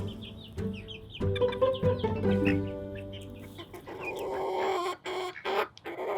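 Young chickens clucking in a barn enclosure, a busy chorus of overlapping clucks and short calls, fairly close and steady throughout with no talk.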